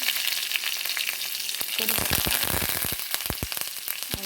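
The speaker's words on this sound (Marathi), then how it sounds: "मोहरी चटकटते आता हमें जीर घते जीर मिर्ची जिरे मिरची" Mustard seeds, cumin and chili crackle in hot oil, a dense close sizzle broken by a rapid burst of sharp pops that thins toward the end, with no one speaking.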